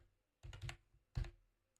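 Typing on a computer keyboard, heard as two short, quiet bursts of soft keystroke clatter separated by a brief pause. The room is otherwise still.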